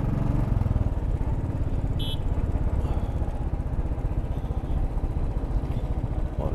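Royal Enfield long-stroke motorcycle engine on a ride toward Hirekolale Lake near Chikmagalur, a steady close thumping exhaust beat with a brief electronic beep, no talking.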